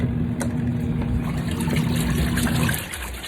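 Portable twin tub washing machine running with water, a steady churning wash with a low motor hum under sloshing liquid, fairly loud and close, easing off near the end.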